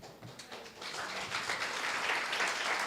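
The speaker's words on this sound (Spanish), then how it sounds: "El aplauso es para Wisława Szymborska, la poeta que ha escrito esto, no para mí que lo leí." An audience claps after a poetry reading, a dense wash of applause that swells slightly and holds at moderate loudness for a few seconds, with no voice over it.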